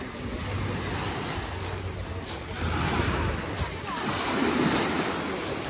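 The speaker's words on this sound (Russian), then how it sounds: "Пляж." Sea waves washing onto a resort beach in Kemer, Turkey, with steady surf roar and wind buffeting the microphone, swelling slightly louder midway.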